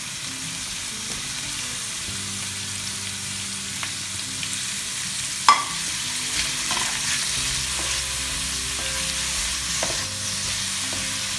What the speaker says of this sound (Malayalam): നമ്മൾ സവാള വഴിക്കുമ്പോൾ കുറച്ച് ഉപ്പും കൂടെ ചേർത്ത് കൊടുക്കുകയാണെങ്കിൽ സവാള പെട്ടെന്ന് വഴന്ന് കിട്ടും